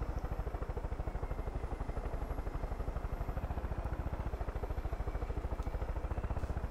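Steady rapid rotor chopping of a helicopter in the video game Far Cry 5, continuous and even throughout, with no talk.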